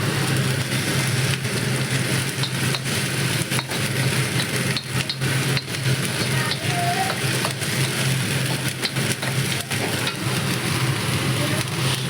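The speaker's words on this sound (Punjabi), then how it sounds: "ਤੜਕਾ ਪਾ ਲਿਆ ਇਹਦੇ ਵਿੱਚ ਮਤਲਬ ਪਿਆਜ਼ ਪਾ ਲਏ ਨੇ ਹੁਣ ਪਿਆਜ਼ਾਂ ਨੂੰ ਭੁੰਨਾਂਗੇ" Chopped onions fry steadily in a hot tadka for shahi paneer, a dense continuous sizzle that stays loud and even throughout with occasional faint stirring clinks.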